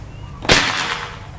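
A single sharp crack from an Escobar PCP air rifle firing an accuracy shot, loud and close, with a short fading tail after the snap and faint background hum before it.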